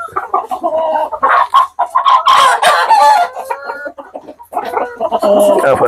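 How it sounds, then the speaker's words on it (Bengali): Chickens on a poultry farm clucking and squawking loudly and close, with a rooster crowing in the middle, busy overlapping calls filling the whole stretch. "মুরগি"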